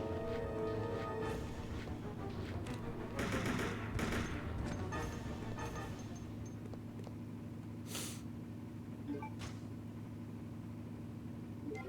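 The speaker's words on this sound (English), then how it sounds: "all that zombie shooting for one pack of shotgun shells" Zombies are shot at in Resident Evil Code: Veronica. Rapid bursts of gunfire crack over a droning game background, densest early and then thinning to scattered single shots.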